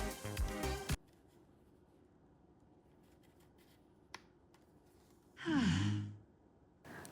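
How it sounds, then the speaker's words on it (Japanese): A USB Type-C plug is pushed into a small IKEA gadget to charge it, and the gadget answers with a breathy, sigh-like whoosh that sounds like a human exhale, preceded by faint soft clicks of handling in a quiet room. "ちょっとこの挿した時の音が面白かったので聞いてください。"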